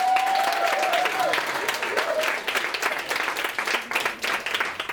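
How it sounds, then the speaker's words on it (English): Wedding guests break into a big round of applause during the reception speeches, with dense, sustained clapping from a sizable crowd that gradually thins out. A faint tonal sound briefly rises near the start. "can we have a big round of applause for Leslie?"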